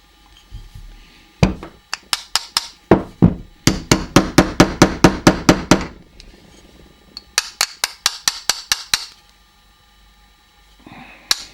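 Sharp metallic hammer taps drive a pin into a Smith & Wesson 22A pistol frame, coming in quick rhythmic runs of strikes with short pauses between bursts, close and loud.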